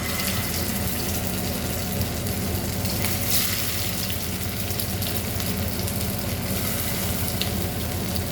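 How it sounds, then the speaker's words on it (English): Raw papaya kebabs frying in about two tablespoons of hot oil in a pan, a dense continuous sizzle and crackle, close and steady throughout. "It's hot now and we will fry our papaya kebab into this."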